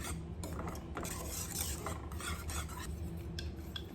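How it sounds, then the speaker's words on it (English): A spoon stirs cornmeal porridge as it cooks in a pot, making a continuous close scraping and rasping sound with soft bubbling underneath. "stirring and just allowing it to cook"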